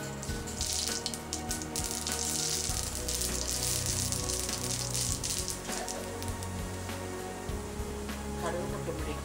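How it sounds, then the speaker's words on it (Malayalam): Mustard seeds frying and crackling in coconut oil in a pan for idli chutney, a dense sizzle with scattered sharp pops over nine seconds, close by, with faint talk underneath. "ഇതിലേക്ക് കുറച്ച് കടുക് ഇട്ട് കൊടുക്കാം"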